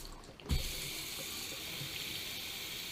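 Water runs steadily from a sink tap, a constant close hiss and splash with a slight surge as the flow starts, no voices.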